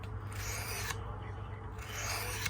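A vintage 1977 Western knife blade is honed on a sharpener, giving two soft, smooth rasping strokes at close range over a low steady hum.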